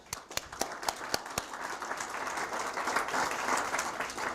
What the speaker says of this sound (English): let's give Jake a big round of applause